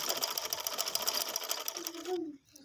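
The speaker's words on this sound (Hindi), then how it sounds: "इसको हमने वो गले के बिल्कुल मिड में रख के ऐसे सिलाई लगा रहे हैं" Sewing machine stitching a flat band collar on a garment, a steady fast mechanical whir with rapid needle clatter close by, ending abruptly with a brief squeak and a faint voice.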